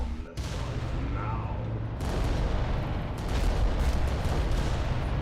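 Volcano cannons from the Adeptus Titanicus: Dominus video game firing in a loud, continuous barrage of booming blasts that rumbles on, swelling after the first seconds, with no talk over it.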